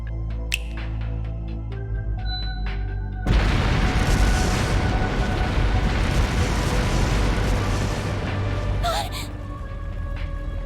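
Explosive artifacts going off in the game Trails Through Daybreak, a sudden loud rumbling burst that sweeps in over quieter tonal music and holds as a sustained roar before easing, with a sharp sound near the end.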